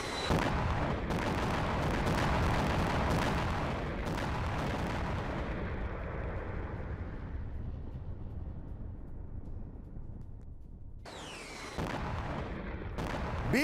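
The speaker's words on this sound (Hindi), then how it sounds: "ATACMS मिसाइल से क्लस्टर म्यूनिशन का इस्तेमाल" Cluster munitions from an ATACMS missile strike burst in a rapid, dense crackle of many overlapping explosions that fades out, followed a few seconds later by a second sharp burst of bangs.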